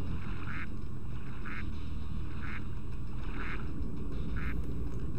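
Ducks in the Spyro video game quack in short, evenly spaced bursts about once a second, five in a row over a steady ambient game backdrop of water and hum.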